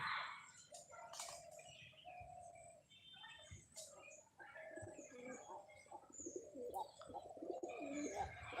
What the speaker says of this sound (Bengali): কবুতর ডাকতেছে এদিকে